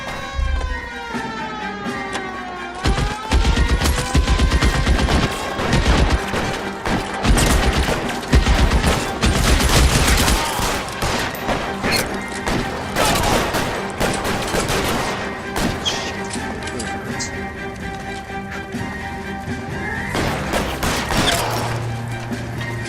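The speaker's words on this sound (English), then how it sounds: "Open fire!" Gunfire from the video game LA Noire rings out in sustained, dense bursts of rapid shots and crashes over game music, continuing for about twenty seconds.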